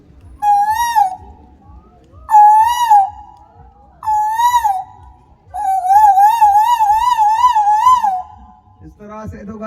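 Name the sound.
person imitating Asian koel call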